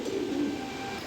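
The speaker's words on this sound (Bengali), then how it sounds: "এখানে আরও এক পেয়ার কবুতর দিলাম, সেম কবুতর" Soft, low cooing from a pair of pigeons, a murmuring coo held steady for a moment over faint background noise.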